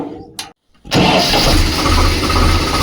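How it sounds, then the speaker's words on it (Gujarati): A tractor engine cranks after a brief pause and catches, settling into a loud, steady close-up rumble, on a farm before hauling a trolley load of chickpeas. "ટ્રેક્ટર લઈને નીકળી ગયા ઘરે ચણા ભરવા."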